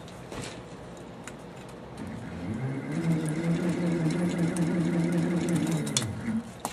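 A ceiling fan alternator spun by hand gives off a whirring hum that rises in pitch, holds steady for a few seconds, then fades, with faint clicks and handling noise around it.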